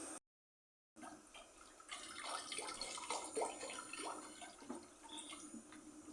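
Water is poured into a cooking pot for boiling chopped young jackfruit, a faint, close splashing trickle with small bursts after a short silence.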